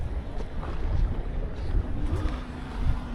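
Gusty wind by the water in Charleston buffets the microphone with a low, rumbling roar, continuous and close, mixed with faint open-air background noise.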